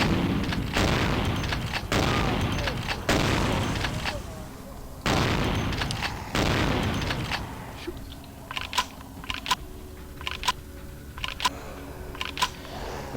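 Shotgun blasts in the video game Vampire: The Masquerade - Bloodlines, several loud, booming shots in quick succession with long decaying tails, followed by quieter clicks and small impacts.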